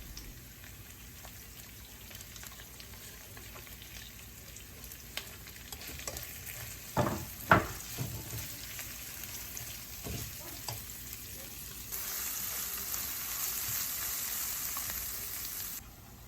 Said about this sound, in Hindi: अनियन को तकरीबन 1 मिनट तक फ्राई करेंगे